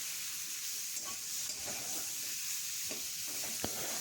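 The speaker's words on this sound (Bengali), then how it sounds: "তো এবার আলুর দমটাকে ভালো করে কষিয়ে নেবো।" Potatoes frying in a pan with ginger, cumin, chilli paste, salt and turmeric, a close steady sizzle with occasional stirring scrapes and clicks, alone without talk.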